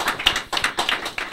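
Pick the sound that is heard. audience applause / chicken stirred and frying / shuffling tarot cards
audience applause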